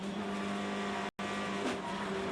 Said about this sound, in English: Was that a yellow car that went by first?